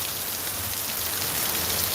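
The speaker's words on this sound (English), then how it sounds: "Dude, I'm getting rained on bad." Steady heavy rain pouring down outdoors near a corner, a dense, even hiss of drops hitting surfaces with no break, close and fairly loud, with no voices.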